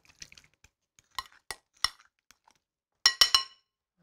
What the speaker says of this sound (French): il suffit d'écraser tout ça, de mélanger tout ça